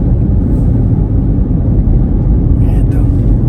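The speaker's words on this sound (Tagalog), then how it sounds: "Sobrang dami ng sasakyan." Busy road with many vehicles on a congested highway, a steady close rumble of engines and tires running throughout with voices talking over it.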